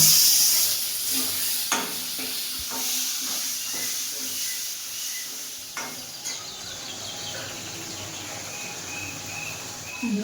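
Spice paste with tomatoes, cumin powder, fish curry masala, salt and turmeric sizzles steadily in a pan for a hilsa and taro dish, with close scraping stirs and spatula knocks punctuating the continuous frying hiss.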